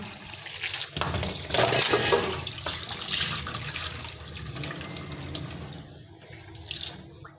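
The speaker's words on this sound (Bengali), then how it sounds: "তো এই তো সুন্দর করে আলুটা ধুয়ে নিলাম।" Potatoes being washed by hand under a running kitchen tap, a steady close rush of water with splashing and shifting as the potatoes are rubbed, no voices.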